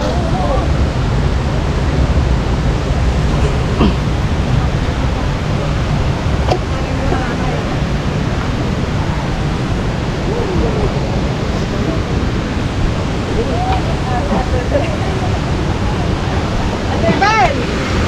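Talon ni Eva waterfall rushing steadily as a constant broadband roar, loud and close, with faint voices occasionally audible beneath the water noise.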